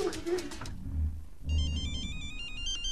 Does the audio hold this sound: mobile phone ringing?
yes